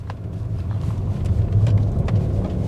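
A Mercedes-Benz S 450 L pulls away under acceleration, a low, muffled engine hum heard from inside the cabin, steady and smooth with soft road rumble and no talking.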